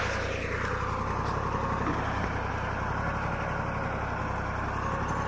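A Same Greaves 353 tractor engine runs steadily, a continuous low rumbling drone with no breaks, close and moderately loud.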